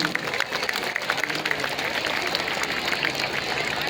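Outdoor crowd at a marathon event applauding to welcome a speaker, a continuous wash of clapping heard at moderate distance for the full few seconds, with a faint background rumble.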